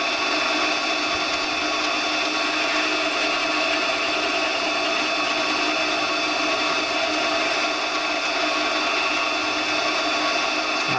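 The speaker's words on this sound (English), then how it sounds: "that boring bar is just a little bit fat. You can see it wiggling a little bit" A boring bar on a lathe cuts brass with a steady, loud, continuous machining whine and hiss that holds evenly throughout with no pauses.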